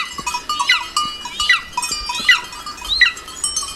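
Several bleats from a flock of sheep being gathered on a foggy Zugspitze mountainside, repeated calls in irregular rhythm at moderate distance over a quiet background.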